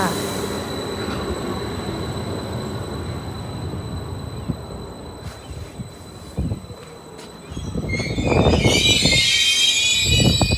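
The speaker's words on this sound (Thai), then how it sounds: "รถไฟมาแล้ว" A train rumbles into a station in Norway, with metallic wheel squeals and high screeching rising near the end as it pulls close and loud.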